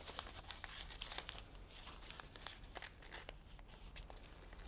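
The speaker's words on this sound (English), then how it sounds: "Fold it over and tuck it in." Paper for a craft monster is folded over and tucked in, giving soft, close crinkling and rustling with scattered small crackles throughout, quiet and with no talk.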